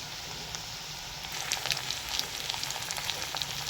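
Onions frying in a pan for mushroom curry give a steady close sizzle that grows busier and crackles more halfway through, with no voices.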